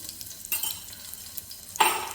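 Garlic paste hits hot oil with a short burst of sizzling, following a soft earlier stir in a home kitchen while a lentil (moong) curry is being cooked; brief and fairly close, with no talking.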